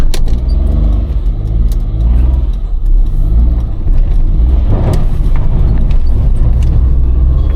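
Car climbing a narrow uphill mountain road in Shimla, its engine droning loud and close with shifting revs and some road rumble throughout, no talking.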